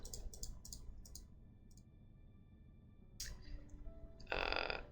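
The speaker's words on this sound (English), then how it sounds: "Now we have to use our select tool, click, click, click, and just a lot of more clicking." Computer mouse clicks while a player edits a ship in the space game Avorion, with a quick run of crisp clicks at the start and a couple more shortly after, followed by louder game noise.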